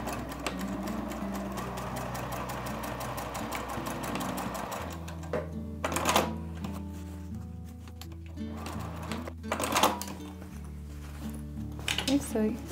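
A sewing machine stitches a dart on a fabric pouch at a 2.5 mm stitch length, a steady mechanical whir with short pauses and brief restarts for backstitching, while a voice talks over it throughout.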